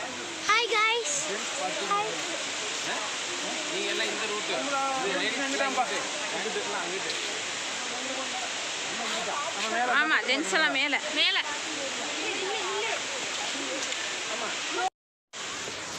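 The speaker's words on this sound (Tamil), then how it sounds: "பாருங்க எப்படி இருக்குன்னு அருவி செம்மையாக தண்ணி வந்துச்சுங்க" Steady roaring rush of Palaruvi waterfall in Kerala, India, fills the whole clip, with people talking and calling out over it close by.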